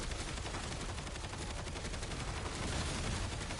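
Sustained rapid gunfire in the Black Ops 7 video game, a dense continuous stream of shots with no break, heard at a moderate level.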